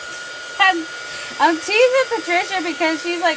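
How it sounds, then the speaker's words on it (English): A hair dryer blows a steady, whooshing hiss across a mixed-media background for craft tags and master boards. Someone talks over the constant drone. "as soon as that air, the dryer goes on"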